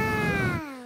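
A voice imitates a kitten meowing: one drawn-out, falling meow, fairly loud and close, that trails off at the end.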